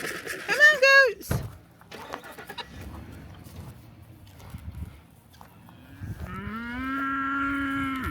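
Cattle on a farm give a short, loud moo up close, followed by scuffling and outdoor noise, then a longer, steady mooing call near the end.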